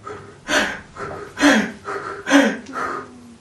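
A voice imitates the labored breathing of an intensive care patient: four or five heavy, rasping breaths with snorting gasps, close and loud, arriving in a steady rhythm about once a second.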